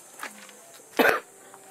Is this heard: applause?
no